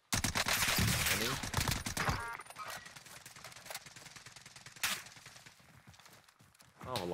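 Dense burst of assault rifle fire in the game Warzone, loud rapid shots for about two seconds, then scattered quieter gunfire and another loud shot under players talking.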